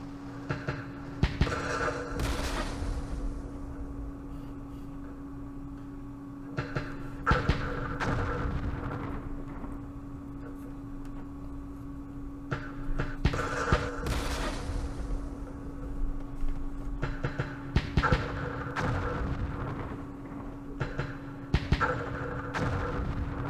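Airstrike explosions and gunfire in a Vietnam War strategy game, with repeated heavy thuds and booms in clusters over a constant low background hum, no talk.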